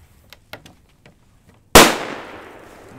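A Doom Boom 2G Plus firecracker goes off with a single loud, sharp bang that decays into a long echoing tail outdoors, after a few soft faint knocks and rustles.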